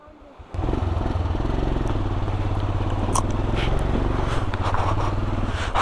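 Motorcycle engine revving loudly and steadily as the bike picks its way over big rocks at a water crossing on a mountain pass route in Ladakh, after a brief quiet start; scraping and clattering of rocks under the wheels.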